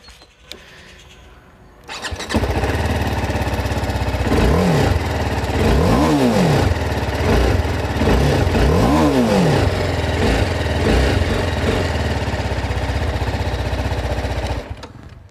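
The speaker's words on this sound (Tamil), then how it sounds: "ஸோ இப்போ இதை எக்ஸாஸ் நோட் பார்ப்போம்" A 2021 TVS Apache RR310 motorcycle engine starts and idles, then the exhaust roars through several sharp revs that rise and fall before settling back to a steady rumble.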